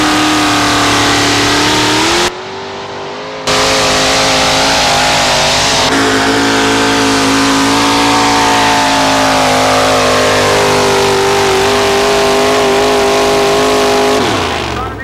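A Ford truck's engine revs hard and steadily during a truck pull, a loud, sustained roar that shifts pitch and rises, with one brief drop partway through.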